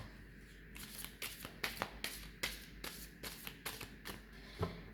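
Playing cards being shuffled at close range during a tarot-style reading, with a quick run of crisp riffling bursts and a few sharper flicks, no talking.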